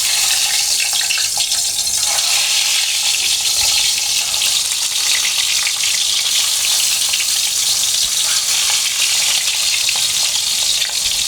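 Boiled eggs rubbed with salt and turmeric fry in hot oil, making a loud, dense, continuous crackling sizzle that stays steady throughout with no voices.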